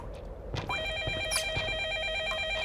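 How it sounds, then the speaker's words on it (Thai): A telephone rings in the horror video game A Technician's Nightmare, a rapid warbling electronic trill that starts abruptly and continues steadily, heard over faint game ambience and scattered clicks, with no talking. "โทรศัพท์ อยู่ไหนวะใครโทรมา"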